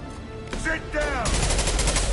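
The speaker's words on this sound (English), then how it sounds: "I love this rifle." Rifle gunfire in the video game Mass Effect 2, with rapid bursts of shots over a noisy battle mix, including brief whistling and sweeping effects before the loud firing.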